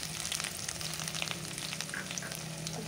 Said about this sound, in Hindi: और ये प्याज है इसे हम भून लेंगे।